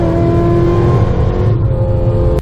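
A 2005 Chevy Corvette runs a quarter-mile pass, its engine roaring loud and close as the transmission shifts into 4th gear and the pitch drops.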